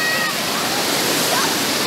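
Rushing water flows through Saklikent canyon in Turkey, a steady broadband roar that fills the short clip at close range.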